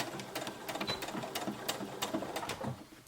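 A sewing machine stitches the corner of an apron, running in a fast, steady mechanical whir with rapid needle clicks, close and continuous, with brief pauses as the fabric is turned.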